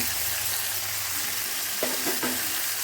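Shallots, garlic, curry leaves and tomato sautéing in a pan for a bitter gourd tamarind gravy: a dense, steady sizzle up close, with a brief spoon scrape near the end and no talk.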